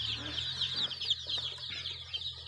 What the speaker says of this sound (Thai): ซื้อลูกไก่ครับ แข็งแรงดีครับอารมณ์ดี